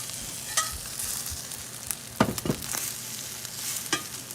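An egg cooking in a cast iron skillet, a soft continuous sizzle broken by a few sharp scrapes and taps as it is rolled up with a spatula.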